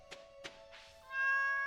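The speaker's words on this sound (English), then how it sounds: "Pet the cat." A cat meowing in a farming video game: two short clicks or taps, then a single clear meow close up, followed by a soft sustained musical tone.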